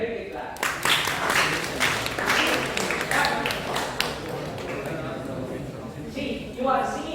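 Audience applauding a student during a satellite communication lecture, a short burst of scattered clapping from a room of listeners, mixed with voices and tapping.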